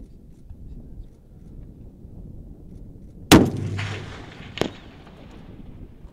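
A Barrett M82/M107 sniper rifle fires one sharp, loud shot on an outdoor live fire range, followed about a second later by a second crack, with quiet wind noise before and after.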